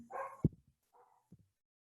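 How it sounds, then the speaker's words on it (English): Dogs bark in the background of a home electronics class session, a quick sharp bark followed by a few short yips and another bark about a second later, fairly faint overall. "Sorry, my dogs are going berserk."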